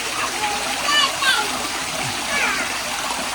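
Water splashes and spatters as hands are washed after touching a snake at a pets park, a continuous close wash with people talking over it.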